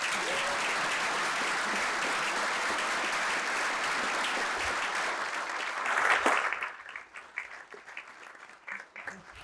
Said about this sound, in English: let's give Jake a round of applause